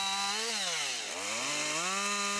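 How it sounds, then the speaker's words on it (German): A light chainsaw delimbing a felled tree trunk drones loudly and close, its engine pitch sinking as the chain bites into a branch, then climbing back to a high whine. "Zum Entasten verwenden Sie am besten eine leichte Motorsäge."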